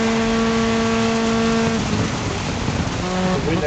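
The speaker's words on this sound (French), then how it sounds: "Le bruit de la voiture." A rally car's engine drones steadily in the Dirt 5 racing video game on Xbox One X, the tone shifting with gear changes over a constant wash of rain-like noise, loud and continuous throughout.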